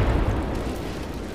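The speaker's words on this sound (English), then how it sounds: "I didn't realise there's more explosions they're gonna have over there" A single heavy explosion rumbles in the WWII strategy game Gates of Hell, a deep booming blast that decays over about a second with no voices over it.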